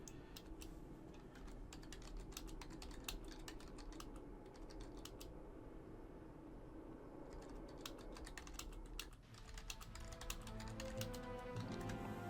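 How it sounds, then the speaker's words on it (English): Steady, faint clicking of a computer keyboard as a note is typed into a document while playing World of Warcraft, rapid keystrokes running continuously over a low background hum with game sounds. "I've just finished typing that out."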